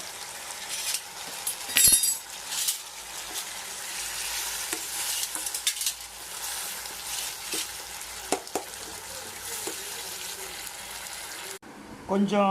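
Tomatoes and onions for onion chutney sautéing in a pan, a continuous sizzle with scraping stir strokes and occasional clinks, while a person talks over it.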